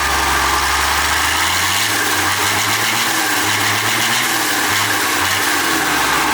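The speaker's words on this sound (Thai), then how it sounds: "เครื่องยนต์6สูบนะครับ" A Hino K13D 300 hp six-cylinder diesel engine idles close by, making a loud, steady, rumbling drone with an even low pulse and no talk over it.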